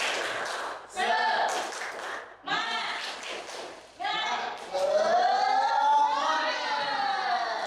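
In a classroom during a science lesson, children chant together and clap a rhythmic cheer in loud bursts with short pauses between, their voices rising in a sing-song pattern over the claps.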